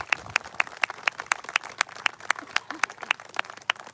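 Rhythmic clapping at a street protest outside Stormont: sharp, evenly spaced claps in a quick regular beat, fairly close and prominent over faint background crowd noise.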